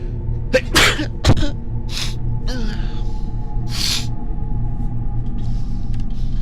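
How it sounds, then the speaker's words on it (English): A single loud sneeze bursts out near the microphone, followed by a short breathy sniff, then only a low steady hum of background game music and ambience. "I'm gonna sneeze. Hold on."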